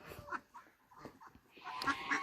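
Geese and ducks on a farm during molting season call with a few scattered honks and quacks, moderately close among faint outdoor noise, without talking.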